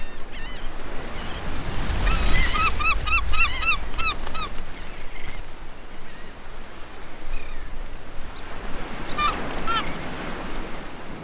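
Honking birds at Egmont Key in Tampa Bay, a flurry of rapid repeated calls early on and a few later ones, set against steady wind and surf noise outdoors.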